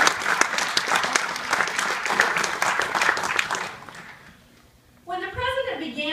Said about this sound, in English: Let's give all those applause.